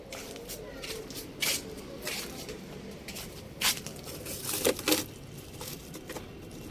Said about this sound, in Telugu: కొంచెం కర్పూరంలో వాటర్ కలిపి స్ప్రే చేయాలి.